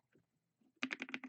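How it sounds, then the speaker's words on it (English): Rapid clicks of a computer keyboard being typed on, a quick close burst of about six keystrokes after faint scattered taps, quiet and alone. "But it also picks up me typing, which I'm personally not a fan of."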